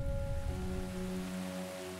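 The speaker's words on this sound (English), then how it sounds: "More and more rain falls instead of snow." Steady rain falling across a warming European landscape, a soft continuous hiss with a low hum of tones beneath it, quiet and unbroken.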